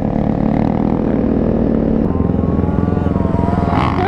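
A 450 dirt bike engine revs hard and steadily at close range, with the rear wheel spinning, a loud continuous motor drone that holds high throughout without any talk.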